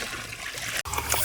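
Water pours into a pool sand filter, sloshing and trickling over freshly added sand in a brief, close splashing burst with a short break partway through.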